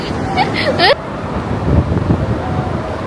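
Steady, broad wind rush fills the recording, with a brief burst of voices and higher-pitched sounds near the start before the wind continues alone.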